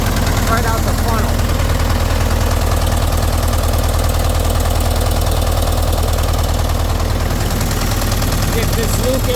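A Case 580B engine with heavy blow-by idles with a steady, loud, low rumble and an uneven knocking beat, spitting oil from the exhaust, continuous for the whole stretch.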